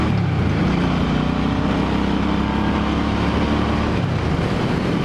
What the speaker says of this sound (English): Just a fun bike. Good sound, good power, plenty of torque.